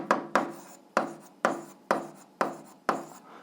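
Chalk or marker strokes scrape out math equations on a board for an 8th-grade algebra exercise, a series of about seven sharp scratchy strokes, each trailing off, steady and close with no talking.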